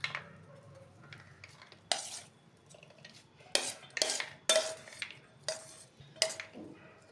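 Someone mixes pomegranate seeds and chopped coriander into a masala in a pan with a metal spoon, making a series of loud scrapes and clanks in uneven bursts, separated by short quiet gaps.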